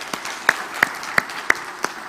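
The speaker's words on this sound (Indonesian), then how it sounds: "Kasih tepuk tangan dulu buat Season City dong" Sparse, distinct claps ring out from a church congregation at GKJ Season City, about one every third of a second, fairly close and sharp in a reverberant room, with no voices over them.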